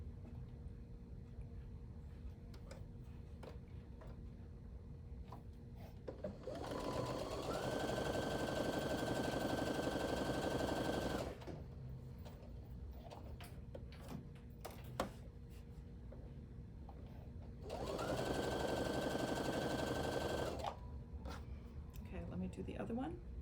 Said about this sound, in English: Okay, so I'm going to sew these.